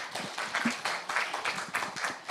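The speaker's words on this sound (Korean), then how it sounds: "여러분 큰 박수 부탁드립니다." A start-up forum audience gives brief, fairly faint clapping in uneven bursts for a few seconds, heard from a distance in a conference hall.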